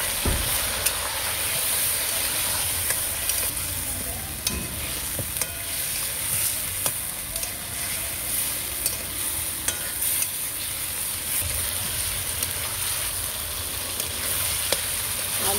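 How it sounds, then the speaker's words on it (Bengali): Potato and papaya frying with turmeric and Kashmiri chili powder for a mutton curry, a steady close sizzle with stirring scrapes throughout, no voices. "হলুদ গুঁড়ো, কাশ্মীরি লঙ্কা গুঁড়ো ভালো করে কষিয়ে নেব।"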